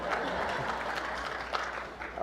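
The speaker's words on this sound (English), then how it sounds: "a round of applause for counties" Audience applause at a congressional forum, a soft, even patter of many hands clapping heard from a distance, sustained without a break.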